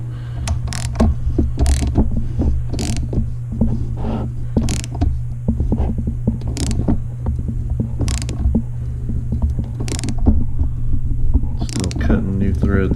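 A hand tap cutting threads into a stripped chainsaw spark plug hole, with repeated creaking, ratcheting turns and sharp clicks as chips break, steady and close up over a low hum.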